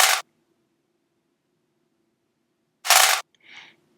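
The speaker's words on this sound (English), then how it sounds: "I just found a sample of some guy shaking a bunch of nails in a jar" Nails shaken in a jar, used as a snare sample in a trap beat: two short bright rattling bursts separated by silence, with a faint softer tail after the second.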